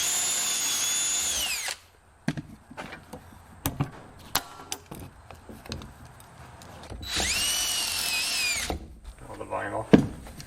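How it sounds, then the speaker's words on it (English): A drill runs in two sustained bursts, driving pocket-hole screws to join cut-to-length faux-wood vinyl siding corner pieces, with clunks and handling knocks from the workpiece between the bursts. "I'm gonna be pocket holing them together"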